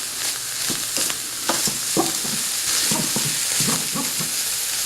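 Shrimp and garlic fry in a pan with a steady close sizzle and bursts of crackling as the pieces are stirred and scraped around, no voices.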